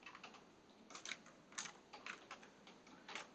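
Quiet, close typing on a computer keyboard while working in Excel: clusters of light, rapid key clicks in short bursts separated by brief pauses.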